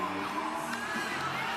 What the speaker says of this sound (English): Ingrid Linda cheering too early